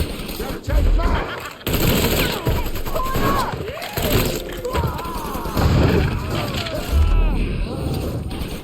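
Gunfire rattles through a Mafia III shootout, bursts and heavy thuds recurring across the stretch with shouting voices mixed in over a busy, loud battle bed.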